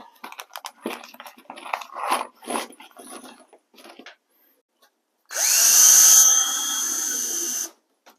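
Cordless power drill driving drywall screws into foam model railroad benchwork, a loud whirring burst of about two seconds that drops in pitch as the screw seats, after scattered handling clicks and knocks.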